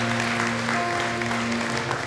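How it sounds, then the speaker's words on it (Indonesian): A church congregation applauds at a worship service, a dense steady clapping that fills the whole moment with a sustained tone humming underneath. "Berikan tepuk tangan buat Tuhan."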